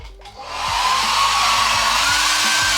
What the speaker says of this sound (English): So when you get to your little hot tool here, you got your blow dryer.